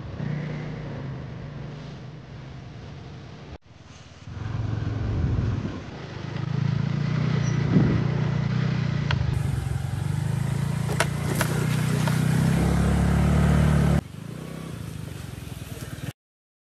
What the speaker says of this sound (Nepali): स्कुटर लान मिल्ने ठाउँसम्म हामीले स्कुटर लयौँ